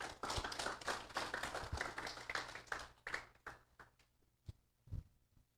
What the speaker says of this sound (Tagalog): Palakpak mo na, palakpak.